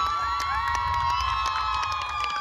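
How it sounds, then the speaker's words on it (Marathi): A large crowd at a tennis-ball cricket tournament final cheers and shouts loudly and continuously, with children's high voices and whistle-like whoops mixed into a dense, sustained roar. "रितेश म्हात्रेसाठी एकदा जोरदार टाळ्या झाला पाहिजे"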